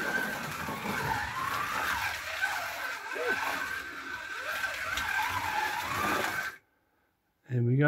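A Porsche 917 LH slot car laps a slot-car track with a steady whining buzz of its small electric motor and rattling guide contact, continuous for several seconds before cutting off abruptly.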